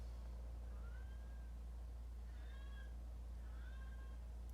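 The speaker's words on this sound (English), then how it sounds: "Do you hear the kitty?" A cat gives several faint, drawn-out meows in a row, quiet against a steady low hum in the room.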